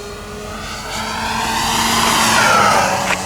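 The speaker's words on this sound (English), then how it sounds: "Wow, it is a great flying airplane." Hangar 9 Fun Scale P-47 Thunderbolt electric RC model airplane on a 4S battery flying air show maneuvers, a loud steady whine whose pitch slides as it passes close by and then pulls away.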